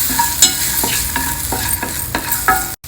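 Spoon stirring nuts and dals roasting in a hot pan with green chilli and hing, a steady close sizzle broken by regular scraping strokes, no voices.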